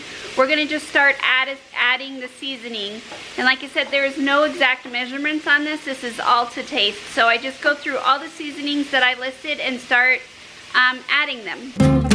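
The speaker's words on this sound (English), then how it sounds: "you can hear them sizzling behind me." Onions, garlic, potatoes and radishes sizzling in hot oil, a low, steady crackle in the background under someone talking throughout.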